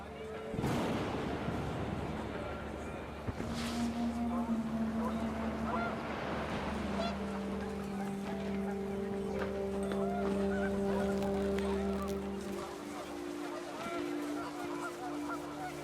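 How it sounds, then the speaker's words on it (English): Panicked geese honk in a video game over a steady wind-like background, with a cluster of calls early on and a sustained tonal band that trails off toward the end. "The wind picked up, and panicked geese appeared and quickly went."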